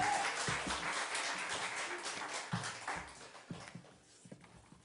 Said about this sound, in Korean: 우리 박수로 한번 영광 돌리십시다